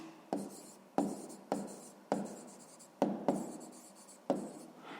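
A pen scratches across paper by hand while a calculation for a sixth-grade math exercise is noted down, in a series of seven or eight short, close strokes at a steady pace, with no talk.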